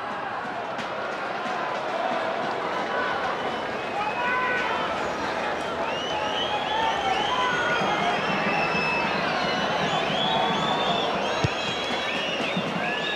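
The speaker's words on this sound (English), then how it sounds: "Applause rings around Olympic Park." Stadium crowd at Olympic Park as a Melbourne Victory v New Zealand Knights A-League football match runs out its final seconds, a steady roar of cheering and applause with a commentator talking over it.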